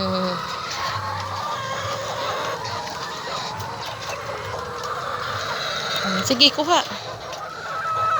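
Chickens cluck softly in the background of a farmyard while a toddler and an adult talk over them, with a brief burst of louder clucking near the end.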